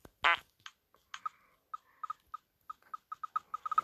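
A dog lets out a fart in the video game I Became a Dog 2: one short, loud, raspy burst, followed by a string of small, quiet, evenly spaced puffs.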